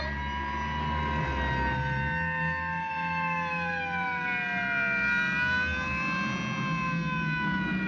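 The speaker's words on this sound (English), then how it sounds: "You couldn't possibly be surprised with all those sirens blasting." Police sirens of approaching state trooper cars wail in overlapping rising and falling tones, loud and continuous over a low engine rumble, with no talking.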